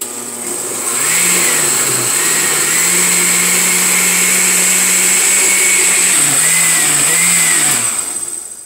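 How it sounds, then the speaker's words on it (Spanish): Blender grinding avocado salsa, a loud steady motor whir running for about seven seconds with brief pitch dips as the load shifts, starting and stopping cleanly. "Ya nomás la vamos a moler aquí de volada y ya va a estar lista."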